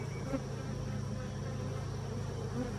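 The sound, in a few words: honey bees buzzing around an opened hive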